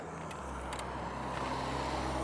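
Road traffic passes on a busy road with no shoulder, a steady close roar of car and tire noise that holds loud and unbroken throughout.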